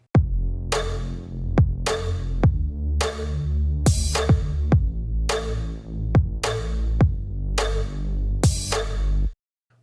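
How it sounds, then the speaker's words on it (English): Electronic drum pattern with a punchy kick, a sharp clap and ticking hi-hats, repeating in a steady loop, loud and alone. "we have a kick, a percussion clap, and some hi-hats"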